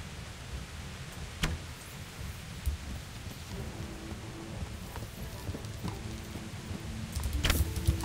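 Steady rainfall in the medieval video game Kingdom Come patters as a constant hiss, with low rumbling, faint clicks and other game sounds mixed in, and no speech.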